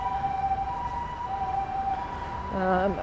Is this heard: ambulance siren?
yes